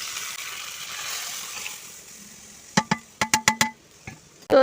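Dal being stirred into fried onions in a pan: a soft sizzle at first, then a quick run of sharp scraping clicks from the spoon against the pan, loud and close, with no talk.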